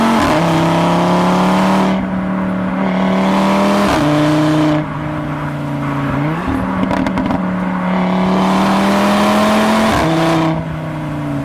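An Audi RS3 engine runs loud and close, its tone climbing steadily under acceleration, then dropping sharply at each gear shift, about four quick shifts in a row.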